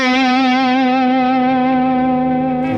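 A vintage Yamaha SB-40 flanger, compressor, noise gate and distortion unit with distortion turned all the way up gives a loud, sustained, buzzing guitar note with a thick wall of harmonics, held steadily before cutting off abruptly.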